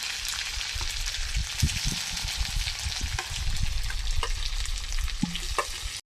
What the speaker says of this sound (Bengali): এবার পটলগুলো দিয়ে দেবো